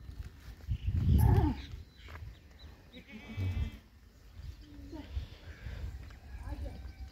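Goats being milked in a farmyard let out a loud, close bleat, followed by fainter scattered animal calls and rustling, while people talk nearby in Hindi throughout.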